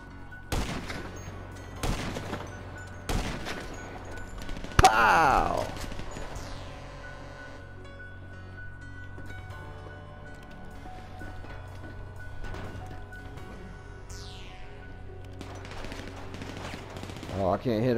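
A GTA shootout with a few sharp gunshots early on, then sporadic quieter shots and game sounds, with a voice talking over the action.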